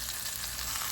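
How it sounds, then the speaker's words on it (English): Pork chops searing in a hot pan give a steady, close, bright sizzle with crackling, continuing through the brief moment without any voices. "Okay, so we're gonna sear both sides"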